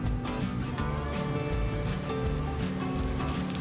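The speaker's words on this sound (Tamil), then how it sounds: "இப்போ நம்ம சுற்றி வந்து கொஞ்சமாக லைட்டாக வந்து எண்ணெய் ஊற்றிக்கலாம்" Oil drizzled around a ragi (finger millet) adai on a hot dosa tawa sizzles steadily, a dense, even crackle close by that holds without break.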